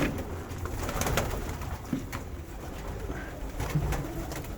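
Pigeons coo and flutter close by in a busy, echoing pigeon loft, with soft wingbeats and scratchy shuffling throughout.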